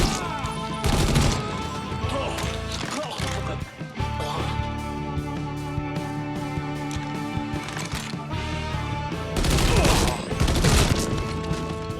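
Gunfire and crashing impacts in the video game Mafia III, with loud bursts near the start and again toward the end over a continuous layer of game music and effects.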